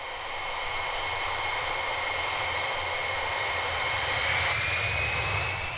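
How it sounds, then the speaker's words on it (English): A NATO Boeing E-3A Sentry surveillance aircraft rolls for takeoff, its jet engines a steady loud roar with a rising whine that swells slightly toward the end, heard alone without voices. "Rolling for takeoff goes NATO 3-9"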